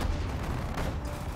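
Dense World War II battle din in Sudden Strike 4 around Moscow in 1941, with tank cannon fire and booms layered over continuous rumbling gunfire, loud and chaotic throughout.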